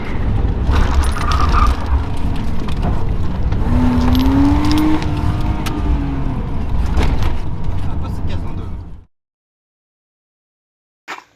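A BMW 320i engine pulls hard through the gears, a loud sustained drone with a rising whine that climbs and shifts in pitch. Voices sit underneath, and the sound cuts off abruptly into silence near the end.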